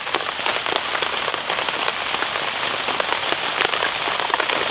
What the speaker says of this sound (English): Oh, look at that rain. That's going to be in all night.